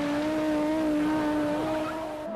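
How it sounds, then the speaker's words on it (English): An Audi Quattro rally car's engine holds a steady high-pitched drone that rises slightly as it runs, loud and continuous, with faint tyre noise. "That's the sound of the Audi Quattro"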